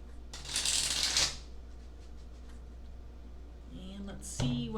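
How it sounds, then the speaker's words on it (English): A tarot deck gets a quick riffle shuffle, a short papery burst near the start and another brief flutter at the end, fairly close in a quiet room. "I want to give this fourth deck one more good shuffle"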